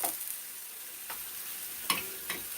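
Plantains fry in a pot with only a little oil, giving a faint, steady crackle and hiss with a few soft clinks or taps along the way and no voices.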